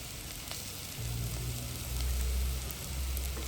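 Ginger garlic paste sizzling and frying with onions in a pan as part of a homemade chicken curry, a steady close crackle that swells louder after about a second and holds for the rest of the moment.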